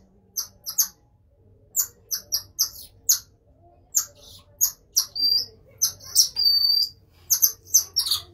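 Pygmy marmosets calling in a rainforest setting, a run of sharp, high chirps and squeaks in quick bursts with a few longer whistled notes, close and fairly loud against a quiet background.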